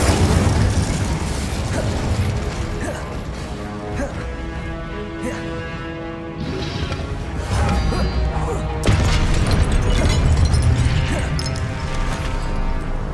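Spells cast in a duel in the video game Hogwarts Legacy, among them disarming, freezing, blasting and fire spells: repeated crashes, bursts and booms in close succession over a constant busy game soundscape, with a voice calling out.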